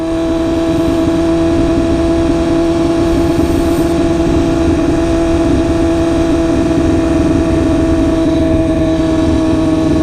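A 2016 BMW S1000RR Premium Package sport bike with an SC Project exhaust runs along country back roads, its steady, loud engine drone holding an even pitch close by for the whole stretch, with no talking.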